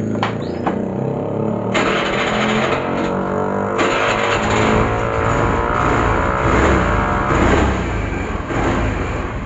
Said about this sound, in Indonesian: Ini udah selesai ya motornya, tinggal di tes jalan.